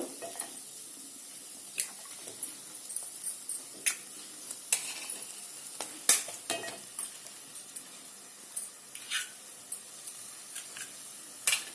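Eggs cracked into a pan of potato curry for a puri egg breakfast dish, a soft steady sizzle broken by scattered clinks and scrapes of stirring, close by and without any talk.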